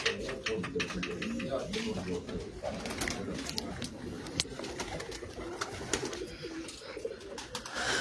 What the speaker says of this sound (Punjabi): ਸਾਰੇ ਲਾਹੌਰੀ ਕਬੂਤਰ ਨੇ